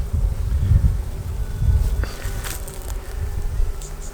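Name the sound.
honey bees building out a hive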